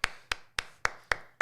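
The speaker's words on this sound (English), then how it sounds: "Big claps for Chris." Six sharp, evenly spaced hand claps, close and distinct, ring out alone at a steady rhythm.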